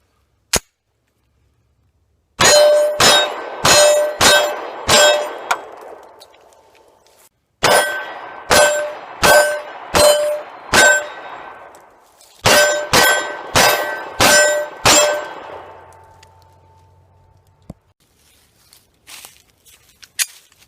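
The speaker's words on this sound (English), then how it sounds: "I'll throw that shooting video in right now." A Kahr CM45 pistol fires .45 ACP in three rapid strings of about five shots each, sharp loud cracks with ringing tails, separated by brief pauses, outdoors and alone.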